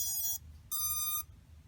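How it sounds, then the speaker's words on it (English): Eachine RedDevil 105mm 2-3S FPV racing drone powering up on its battery, giving two short high electronic startup beeps separated by a brief gap, close and clear with no talking. "So powering up the quadcopter via the battery."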